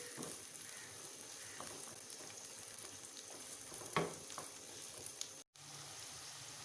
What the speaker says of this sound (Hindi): ये हमने प्याज डाल लिया, अब इसको अच्छी तरह से